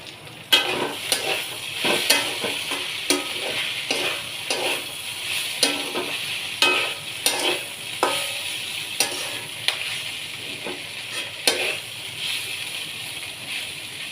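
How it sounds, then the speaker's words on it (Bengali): Dried fish (shutki) frying in a pan, a steady close sizzle broken by regular scraping strokes of a spatula stirring it, repeating roughly every second with no talking. "শুটকিটা ভাজা হয়ে গেছে।"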